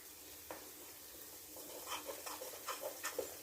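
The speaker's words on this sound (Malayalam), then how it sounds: "അതിട്ട് നല്ല പോലെ ഒന്ന് അതിനകത്ത് വഴട്ടിയെടുക്കണം ആ എണ്ണയിലിട്ട് കേട്ടോ" Masala for chickpea curry sautés in oil, with a quiet, constant sizzle and a series of soft stirring scrapes that grow busier toward the end, and no talk.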